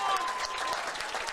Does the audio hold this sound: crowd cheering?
yes